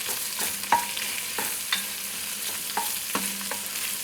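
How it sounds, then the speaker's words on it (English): Onions for shakshuka frying in a pan, a steady bright sizzle broken by several sharp scrapes and taps of a spatula as they are stirred, close and clear with no voices. "So now it's time to add our onion. And we want these to cook down really, really well."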